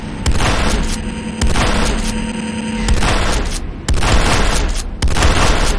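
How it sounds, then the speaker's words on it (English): Repeated loud explosions and gunfire bursts from the Command & Conquer Renegade video game, with a C4 charge detonating amid a dense, continuous barrage of booms over several seconds. "C4 is set. Fire in the hole!"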